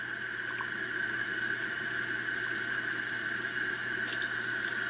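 A household tap pours warm water in an unbroken, steady flow, near and constant, with a smooth rushing hiss that barely changes from start to finish and no voices over it.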